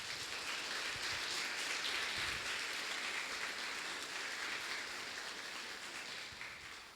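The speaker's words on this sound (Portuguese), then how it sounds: "Vamos aplaudir esses irmãos." A church congregation applauding together after a prayer, a steady, dense wash of clapping that holds evenly for several seconds and tapers slightly at the end, with no voices over it.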